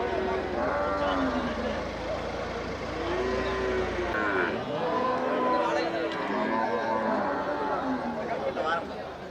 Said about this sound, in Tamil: ஜல்லிக்கட்டு மாடு ஜல்லிக்கட்டு மாடு